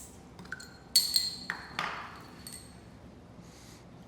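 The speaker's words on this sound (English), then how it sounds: "And then we're going to pop the Coke." A Coke can is popped open in a kitchen while carnitas cook, a sharp metallic click and clink followed by a brief fizzy hiss, close and fairly quiet, with small taps around it and no talk.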